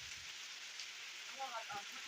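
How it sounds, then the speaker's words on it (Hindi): Soft, steady hiss of heavy afternoon downpour in a village, faint and distant, with a few quiet tonal sounds in the background. "दोपहर के बाद मूसलाधार बारिश।"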